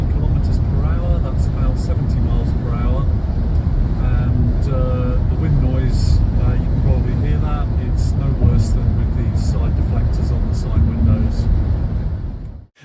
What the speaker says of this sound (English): Okay, so we're driving about 120 kilometers per hour, that's about 70 miles per hour.